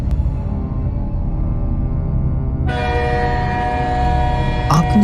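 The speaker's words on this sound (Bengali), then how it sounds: "ঠিক সেই সময় ট্রেন একটি জঙ্গলের কাছে এসে থেমে যায়।" A cartoon train comes to a stop near a jungle, with a low rumbling run and then a steady horn-like tonal whistle that enters midway and holds to the end, followed by a brief sharp squeak.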